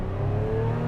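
The engine of a Lotus Emira sports car revs at launch in a short, steady roar with a low rumbling drone.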